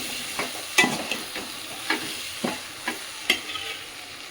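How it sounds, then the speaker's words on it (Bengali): Whole chillies, spices and chilli powder are stirred in a hot pan for khichuri, with a soft frying hiss underneath. A spoon scrapes and knocks against the pan in distinct strokes about every half second, close and clear. "মশলাগুলো ভালো করে নেড়ে নেবো।"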